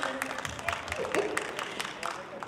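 Applause from an audience at a Saraswati Puja cultural programme after a song, a dense, steady wash of many hands clapping at moderate distance, with no clear pauses across the whole stretch.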